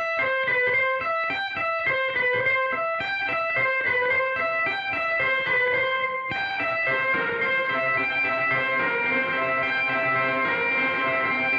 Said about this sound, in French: la pédale d'expression modifie la durée de la queue de la reverb qui est placée avant la distorsion